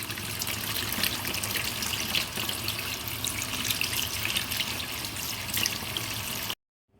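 Cold tap water runs steadily over lobster tails being rinsed at a sink, a continuous close splashing stream that cuts off abruptly near the end.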